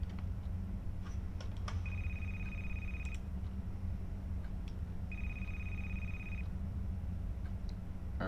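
A telephone rings in a horror video game, two long electronic ring tones separated by a pause, heard moderately close over a low ambient hum with scattered clicks.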